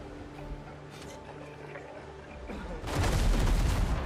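Ship cannons firing in the pirate game Windrose, a dense burst of loud booming volleys that erupts after a quieter stretch of game music and continues as a sustained barrage.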